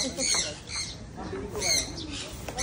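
A bird at Manila Ocean Park gives a few short, harsh squawks close by, with people talking quietly underneath.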